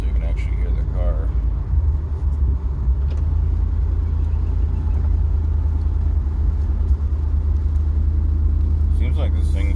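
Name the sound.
car cruising with windows partly down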